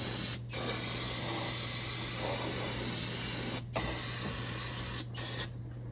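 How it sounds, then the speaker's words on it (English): Purple Power degreaser sprayed into the engine bay of a 6.0 engine, a steady, loud aerosol hiss that runs for several seconds, broken by three brief pauses, with no talking. "I'll spray some purple power back there"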